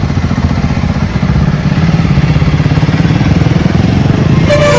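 A motorcycle engine runs loudly and close, a steady rapid low throbbing putter throughout with no voices.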